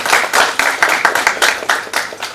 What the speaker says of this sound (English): Please give a big round of applause to our esteemed panelists.